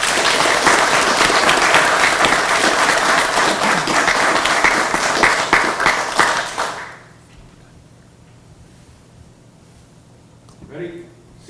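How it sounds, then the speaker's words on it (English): A large audience at a police officer recruit graduation ceremony applauds recruits, military members and veterans, loud sustained clapping for about seven seconds, then dropping to near silence before a brief voice. "please give our recruits, all the military service members, and veterans in the audience today a round of applause for their service"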